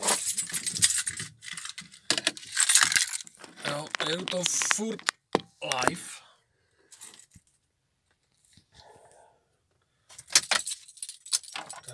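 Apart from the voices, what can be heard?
keys jangling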